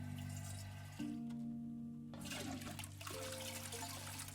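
A toilet flushing in the video game Estranged: The Departure, a steady rushing and trickling of water with tonal hum in the background, continuous and moderately faint throughout.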